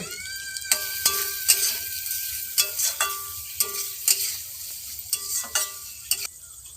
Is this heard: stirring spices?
yes